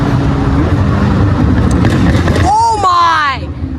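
Two McLaren 720S supercars pass at a supercar gathering. The engine and road roar is loud and continuous, and a rising, sweeping engine note swells in the last second as one car goes by. Excited voices talk over it.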